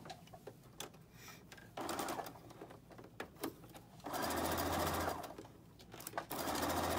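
Sewing machine stitching a seam across a bow-tie quilt block, running in bursts of steady rapid whirring that stop and start between quiet pauses.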